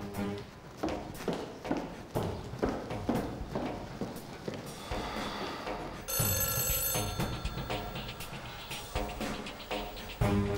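A telephone bell rings in a bright burst partway through, amid a busy run of rhythmic knocks and footstep-like thumps.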